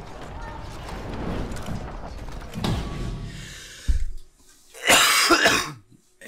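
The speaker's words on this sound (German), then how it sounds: "ich habe fast eine halbe Stunde durchgehalten, ohne dass ich husten musste" A gamer coughs and clears his throat several times while playing the medieval combat game For Honor, harsh bursts close to the mic mixed with game sounds, then a loud final cough after a brief quiet.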